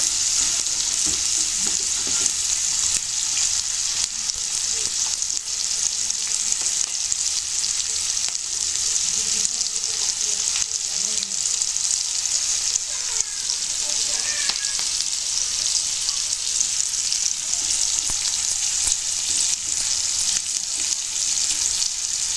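Fish frying in a pan for a Telangana-style fish fry, giving a steady, continuous oily sizzle that stays close and even throughout without pause.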